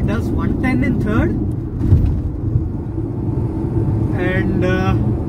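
Mahindra XUV 3XO TGDi turbo-petrol engine pulling hard through the gears, a steady loud cabin rumble with a rising engine whine, heard from inside the car with someone talking over it.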